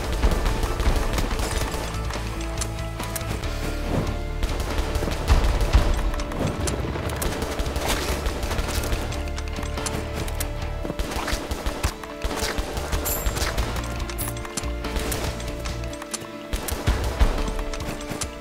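Gunfire from weapons in the shooter game Viktor in an arid wasteland level, with repeated sharp shots and bursts crackling over a dense, continuous game soundtrack and effects.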